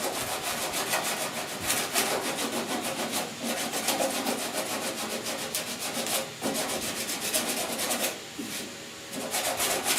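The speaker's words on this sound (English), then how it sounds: "I'm not sanding this hard by any means. I'm just knocking it down." Rapid, rhythmic rasping of sandpaper lightly knocking down body filler on the cowl and firewall of a 1969 Chevy C10, close and steady with brief pauses between strokes.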